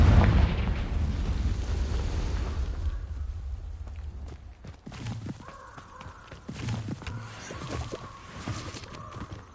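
Confringo spell explosions in the Hogwarts video game: a loud blast at the start fades into a rumbling decay, followed by quieter impacts and scattered game sounds.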